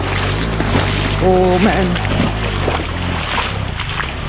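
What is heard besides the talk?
KTM 390 Adventure motorcycle riding through deep water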